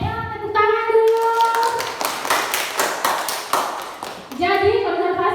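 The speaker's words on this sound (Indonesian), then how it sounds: "Ayo tepuk tangan dulu." A classroom of children claps together in a short burst of quick, overlapping hand claps. Voices can be heard before and after the clapping.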